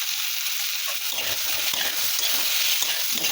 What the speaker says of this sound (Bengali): ভাজা হয়ে গেছে, একটুখানি ভেজে দিলাম।